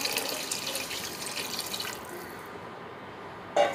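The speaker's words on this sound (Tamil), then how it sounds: "நான் தேவையான அளவு தண்ணி ஊற்றுறேன்." Water pours steadily into the pot of an infrared electric cooker while rice is being cooked, a soft continuous splashing that eases off partway through and ends with a brief clunk.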